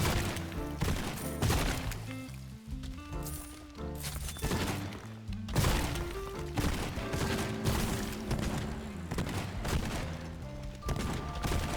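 Rapid gunfire in the Zombieville USA 3D video game, dense repeated shots cracking over busy game music and effects, loud and continuous.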